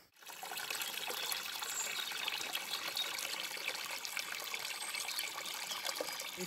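Water flows steadily at the source of the Huveaune river, a continuous close trickle and gush that holds an even level throughout, with no voices.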